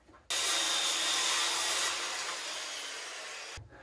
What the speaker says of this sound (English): I need to trim it. I'm gonna take about half inch off.